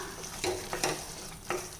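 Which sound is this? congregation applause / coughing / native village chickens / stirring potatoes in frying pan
stirring potatoes in frying pan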